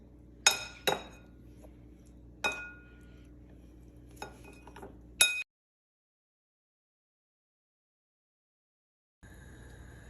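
Cutlery knocks and clinks against a bowl as chicken pieces are turned in marinade, five sharp taps over several seconds, followed by a stretch of silence and then a faint steady hum.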